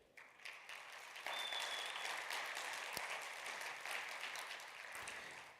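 Audience applauding a graduating class at a ceremony, steady clapping building after a quieter start and holding for several seconds before easing slightly, fairly distant.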